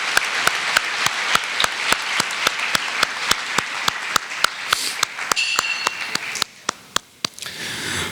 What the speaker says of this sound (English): let's take one more moment to congratulate and applaud the dedication, perseverance, and sportsmanship of all of our fall athletes